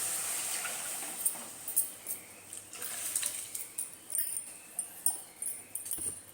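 Soaked moong dal slides into a pan of gravy, with soft wet splashes and squelching plops repeating irregularly at close range, quiet and without voices.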